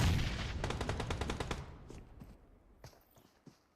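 Rapid gunfire in a competitive video game match, a dense loud burst of shots that fades into a few scattered distant reports.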